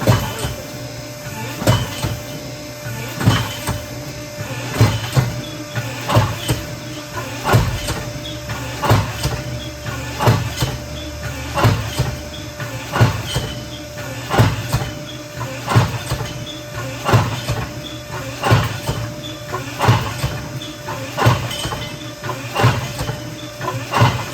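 A mechanical bucking machine for bronc riding practice runs steadily, its motor droning under a repeating rhythm of sharp knocks and clanks as it sucks back and kicks, with a few voices in the background.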